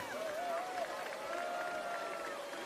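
Spectators at a canoe-kayak freestyle World Cup event in Plattling, Germany cheer and make noise steadily, with a continuous crowd roar and a voice carrying over it.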